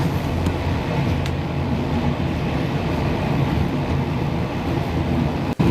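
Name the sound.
train running on rails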